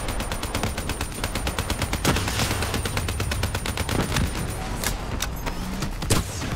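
Rapid automatic gunfire in the video game Call of Duty: Black Ops III, a loud, sustained stream of closely spaced shots with a few sharper bursts near the end, and no voices over it.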